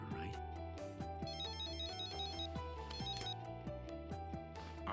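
Cell phone ringing in the Death Note anime, a repeating melodic ringtone phrase heard faintly under a busy musical score.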